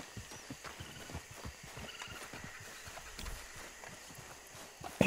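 Steady clip-clop of horse hooves walking at an even pace in the video game Red Dead Online, with faint background ambience and a brief louder noise at the end.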